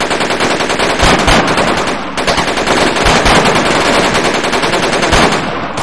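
Sustained automatic gunfire from Project Reality, dense rapid bursts of machine-gun and rifle fire filling the whole stretch, loud and continuous with no talk.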